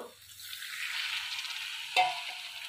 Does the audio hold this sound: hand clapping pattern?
no